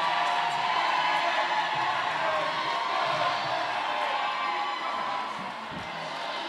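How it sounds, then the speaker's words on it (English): An indoor crowd at a roller derby match cheers for Team Wales, a broad roar of many voices that stays loud and steady, then eases slightly near the end. "And there's the crowd showing the love to Team Wales."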